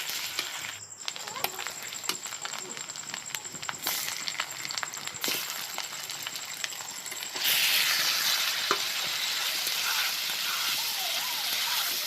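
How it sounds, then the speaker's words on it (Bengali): Chicken sizzles in mustard oil with onion paste in a wok, a steady close hiss throughout that thickens and grows louder partway through. "দিয়ে ভালো করে মাংসটা কষিয়ে নেব"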